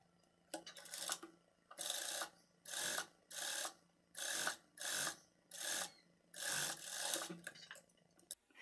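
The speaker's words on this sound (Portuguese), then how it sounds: "vou passar uma costura aqui na beirada com a distância de meio calcador pra fechar essa tira" A straight-stitch sewing machine closing a strap seam along the edge, running in short bursts of rapid clatter, about seven evenly spaced runs with brief pauses between, close and clear, no talk.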